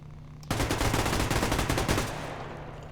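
Rapid fire from a PKP Pecheneg machine gun in the game Survarium erupts in a sustained burst of about a second and a half, loud and close, then trails off into echoing noise.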